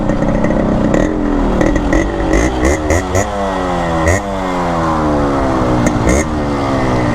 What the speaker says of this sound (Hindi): मेरे को लग रहा है इंजन में नॉकिंग है